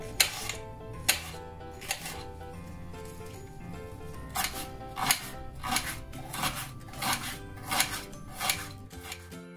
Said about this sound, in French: on a coupé finement l'oignon et le poivron vert